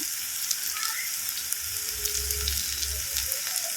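A tomato dry prawn curry sizzles steadily in oil in a pan, a close, dense hiss with soft stirring underneath, with no voices.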